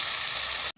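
Tomato pieces hit hot oil in a curry pan, giving a loud, steady sizzle that cuts off abruptly near the end.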